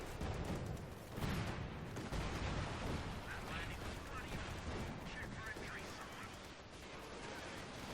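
Battle explosions and gunfire in the World War II strategy game Company of Heroes 2, a continuous barrage of booms, shots and rumbling blasts, steady and dense, with a voice speaking over the combat.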